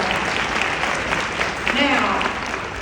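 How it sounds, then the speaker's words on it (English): Audience applauding at an entrepreneurs' business brunch, brief steady clapping with a voice and some cheering mixed in near the end. "So can you give yourself a round of applause?"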